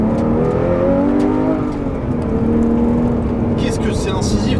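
A Porsche 911 R engine pulls hard on a winding road, its loud rising tone climbing through the revs while someone talks over it.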